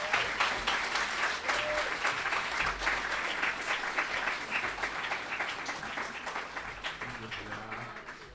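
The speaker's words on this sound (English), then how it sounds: "So please, another round of applause." Sustained audience applause at a One Tam Summit event, dense steady clapping from a crowd that slowly fades toward the end.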